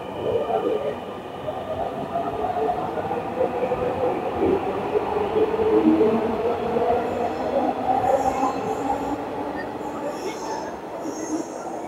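A metro train runs along its track with a loud, continuous rumble and drawn-out wheel squeal rising and falling over about twelve seconds, heard from inside the car.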